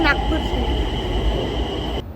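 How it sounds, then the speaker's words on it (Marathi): A Nagpur metro train at a clean station platform, a loud steady rumble and hum of the train close by with a high whine, cutting off abruptly at the end. "बघा आता मागे मेट्रो आली आहे"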